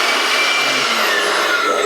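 An Ingco CABLI20018 cordless air blower runs on its high setting on a partly drained battery, giving a loud, steady whooshing roar with a whining motor tone, close and continuous, with no talking.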